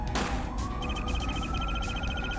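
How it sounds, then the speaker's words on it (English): Police sirens wail outside in the courtroom mystery game Phoenix Wright: Ace Attorney, steady rising and falling tones sounding continuously over a dense background bed. "Okay, sirens outside."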